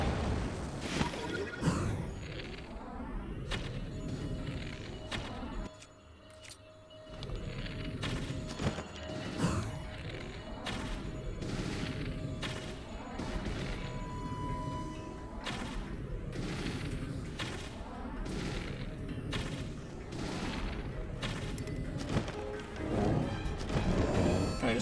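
Rockets firing in Zelda: Tears of the Kingdom: booming whooshes and crashes through a long stretch of game action, with repeated sharp bursts, a brief lull near the start, then sustained rumbling blasts and impacts.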